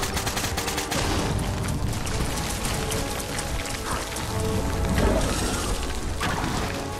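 Dense gunfire in Fallout 4 crackles in rapid bursts, loud and close, with the sustained rattle of automatic fire over a busy game soundscape.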